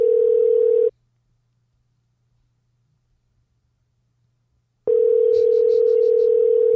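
A steady electronic telephone tone sounds briefly, cuts out for about four seconds of near silence, then resumes at the same pitch.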